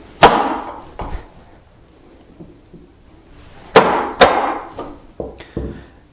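Chisel struck with a mallet to chop a mortise in wood, several sharp close knocks in two bursts, each sharp hit followed by lighter taps, with quiet pauses between.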